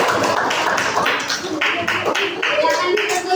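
A fourth-grade class claps hands in a classroom, loose bursts of clapping with uneven rhythm and some children's voices mixed in.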